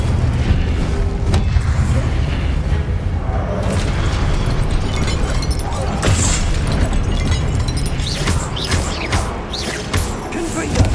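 Spell explosions from Confringo and Incendio casts in Hogwarts Legacy, a dense, continuous rumble of booms and bursts lasting throughout, loud and layered with repeated blasts.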